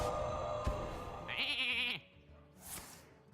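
A cartoonish sheep bleats in the Hearthstone card game after a polymorph spell, a short wavering baa over game music and chimes, then a brief sparkling effect.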